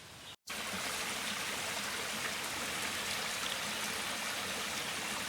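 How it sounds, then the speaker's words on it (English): A stream of water flows steadily and close by, a continuous broadband rush with one brief dropout near the start and no voices. "The stream's moving good, so that's good."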